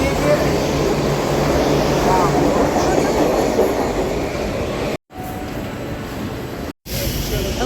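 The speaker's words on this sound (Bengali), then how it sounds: "এই জাস্ট আমরা ঢুকছি মেট্রো" A Kolkata metro train rumbles loudly and continuously at a station, with a deep droning roar and rattling wheels, and faint voices in the background; the sound cuts out briefly twice near the end.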